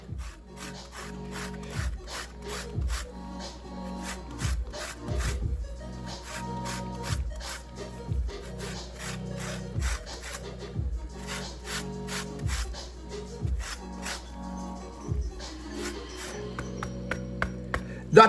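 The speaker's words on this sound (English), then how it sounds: "I'm gonna grate a little more." Food is grated by hand for an orange chicken sauce, a close, repeated rasping and scraping in steady strokes, each pass followed by a short pause.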